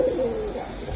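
A female pigeon in a loft of breeding pairs gives a single short coo, close and fairly clear, over a faint background hum.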